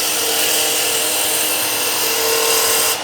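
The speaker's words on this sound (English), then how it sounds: "get the bevel rubbing, and have a really nice finishing cut" Woodturning gouge making a finishing cut on a lathe with the bevel rubbing, a steady close hissing scrape over the lathe's constant hum, cutting off abruptly at the end.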